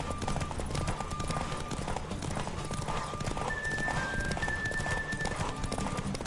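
Horse galloping in The Witcher 3 during a race, rapid rhythmic hoofbeats close up with a neigh, under game music and ambient noise; a voice speaks briefly.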